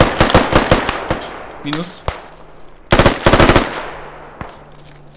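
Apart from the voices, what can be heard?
gunfire in Squad video game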